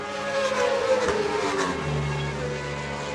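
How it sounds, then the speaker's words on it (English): Honda and Ducati superbikes race at Kirkistown in an Ulster Superbike round, engines screaming as they pass close by, rising then falling away into a lower drone. "Up into 5th place now on the Honda. And in the slipstream of the Ducati, Ross Martin"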